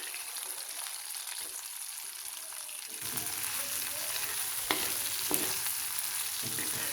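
Hilsa fish pieces hit a hot pan and fry with a loud, dense sizzle that swells after a quieter start, with a couple of clinks from handling.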